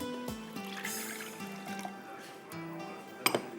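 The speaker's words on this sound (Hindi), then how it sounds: "इसके बाद इसमें जाएगा 1 कप के जितना पानी" About a cup of water is poured into a cooking pot holding oil for a Behari handi, a soft, steady liquid rush under tonal background music, fairly quiet and close.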